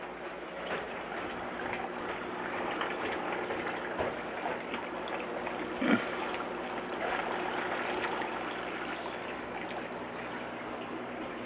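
Water pours steadily into an aquarium, a continuous gushing trickle heard close up with a faint background hum and a brief bump midway.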